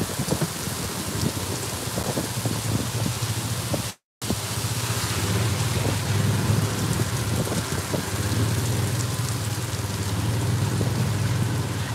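Steady rain drums on the roof of a golf cart in The Villages, Florida, a dense, loud wash of drops close by that runs the whole time apart from a brief dropout.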